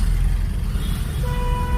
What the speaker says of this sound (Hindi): चलिए हॉर्न दे दीजिए यहाँ पे